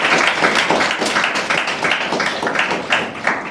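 An audience applauds at a Tamil motivational speech. Many hands clap in a dense, steady, loud patter that lasts throughout.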